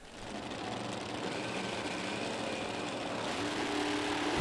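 Drag racing cars at the Snowbird Outlaw Nationals produce a dense, roaring engine noise that swells and holds loud for several seconds, heard from a distance with no voices.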